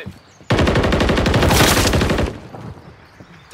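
Sustained automatic gunfire from a Call of Duty firefight, a dense rapid burst of loud shots lasting nearly two seconds before cutting off into quieter background noise.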